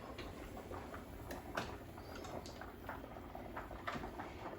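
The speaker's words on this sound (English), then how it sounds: "You just have to let them boil" Meatloaf fixings bubbling in a pot on a kitchen stove, a steady low rolling boil with soft irregular patter and small pops, close and fairly quiet, with no talking.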